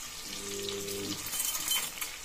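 Chopped onions and green chillies sizzle and fry in a pan for tomato rice, a steady crackle with a brief metallic clink and stirring sounds partway through.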